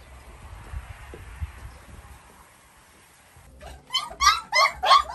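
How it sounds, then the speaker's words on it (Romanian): Romanian Mioritic Shepherd puppies whine and yip at feeding time in a dim dog shelter, a rising cluster of several high, close cries after a quiet stretch of faint shuffling. "Mergem jos la ciobăneștii mioritici să vedem cum mănâncă ei laptele ăsta cu bobițe."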